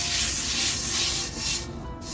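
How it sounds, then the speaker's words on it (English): Hard, continuous scrubbing of rust off a cast iron pan, a loud close abrasive rub with a few broad strokes swelling and fading, no voices. "So you're not going to damage by doing hard scrubbing"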